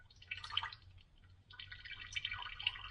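Water drips and trickles steadily out of a seized Toyota FJ40 Land Cruiser engine, arriving as two close, moderately loud bursts separated by a short lull.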